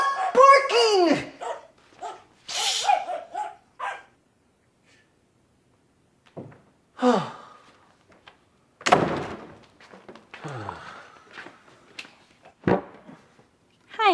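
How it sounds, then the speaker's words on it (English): A dog barks in a home in short bursts, sharp and fairly close, mixed with a person speaking and a door thudding. "Stop barking!"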